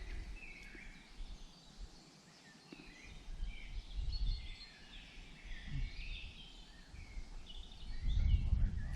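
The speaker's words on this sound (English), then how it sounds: "It's nice just hearing the birds chirping" Birds chirp faintly in the distance in a British woodland, scattered high calls over a quiet, breezy outdoor background.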